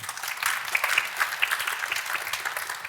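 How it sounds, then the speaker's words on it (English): At a Study and Stay in Turku event, an audience claps for two experts: moderate, fairly even clapping from a modest crowd, with a few sharper individual claps standing out. "A big round of applause for our two experts."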